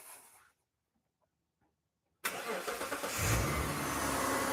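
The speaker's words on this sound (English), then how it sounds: "I'm going to go start the car now." A Mitsubishi car engine starts after a quiet pause: an abrupt loud crank catches and settles into a steady, close idle that holds to the end.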